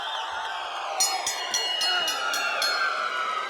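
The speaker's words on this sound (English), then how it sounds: "the crowd is going to get up and give a standing ovation" Arena crowd at a boxing title fight between Andre Berto and Paulie Malignaggi, rising to its feet in a standing ovation; a broad, steady roar of cheering that swells slightly partway through.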